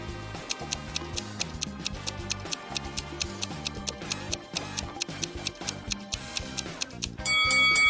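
A wall clock ticks in a steady, even rhythm, its crisp clicks running over a bed of soft background music that swells louder at the very end.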